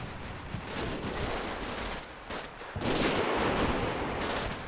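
Heavy machine gun fire in the combat video game Combat Mission Shock Force 2, dense, continuous rattling bursts with a brief lull before a louder, closer volley resumes.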